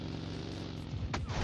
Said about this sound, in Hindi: आगे गोलियां भी चल रही होती है